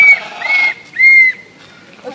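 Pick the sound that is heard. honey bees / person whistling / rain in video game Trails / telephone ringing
person whistling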